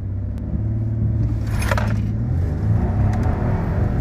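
Modded 2.7 EcoBoost car launching on good pavement with rear wheel hop, a low engine rumble and rough rhythmic thumping from the back, close and steady without talk.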